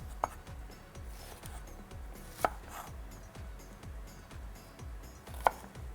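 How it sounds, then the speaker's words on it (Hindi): A knife cuts chicken into cubes on a board, producing a steady run of dull, evenly spaced chops with a few sharper knocks, close and clear with no talking. "ये इस तरह से हमने इसको क्यूब्स में काट दिया"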